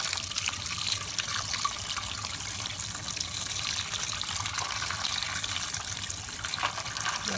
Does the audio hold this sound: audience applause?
no